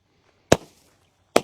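A confetti cake firework with 30 shots fires two sharp, loud pops about a second apart against near silence.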